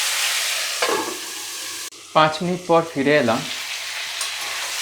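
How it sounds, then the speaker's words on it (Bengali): Pointed gourd fries in a pan over a medium flame, giving a steady close sizzle throughout while a person speaks briefly in the middle. "এটা মিডিয়াম ফ্লেমে ভালো করে ভাজা ভাজা হোক"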